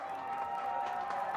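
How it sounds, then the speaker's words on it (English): Distant crowd at a fight event roars and claps in a sustained, noisy wash, heard faint and far off with a steady tone running beneath it. "listen to that crowd go. They're going wild."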